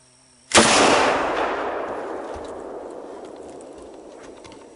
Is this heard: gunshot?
yes